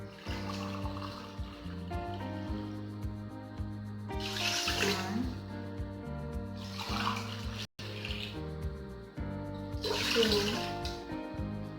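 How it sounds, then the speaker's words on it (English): Water from a glass is poured into a cooking pot in a home kitchen, steady splashing and trickling in several separate pours with short gaps, while a voice counts along and music plays underneath. "we're going to need 4 cups of the water"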